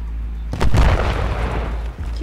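A grenade explodes in the video game Gangstar New Orleans, a sudden loud boom with a heavy low rumble that decays over about a second and a half over steady background noise.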